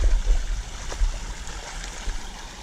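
Small waterfall in a clear, cold mountain creek, a steady close rush of broadband water noise with wind rumble, with no talking.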